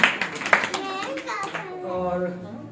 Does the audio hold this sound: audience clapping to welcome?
yes